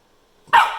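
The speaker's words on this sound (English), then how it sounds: "Okay, go bark at it." A golden retriever puppy lets out a single sharp, loud bark close by after a moment of near silence, with no voices over it.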